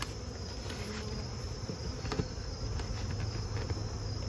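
Honeybees hum steadily inside a nuc box being prepared for overwintering, a continuous buzzing drone that stays close and even throughout, with a few faint clicks and knocks from handling the box.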